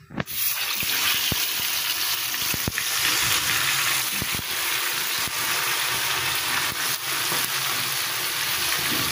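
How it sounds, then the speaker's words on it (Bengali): Chicken pieces frying in a pan for a fried rice meal, giving a steady, close, broadband sizzle that runs throughout with a few sharp clicks and spatters, no voices. "ফ্রাইড রাইসের সাথে খাওয়ার জন্য চিকেন ফ্রাই ভেজে নিতেছি।"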